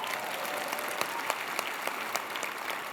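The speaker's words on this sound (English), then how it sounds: "yeah, you can applaud Stevie." Audience applause at the TrailheaDX opening keynote, a dense, even round of clapping with scattered sharper claps standing out, carrying on steadily without speech.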